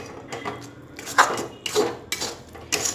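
Khoya filling for patishapta being stirred in a pan over low heat, with a series of scraping and clinking strokes of a spoon against the metal at close range, a few louder knocks standing out, and no voices.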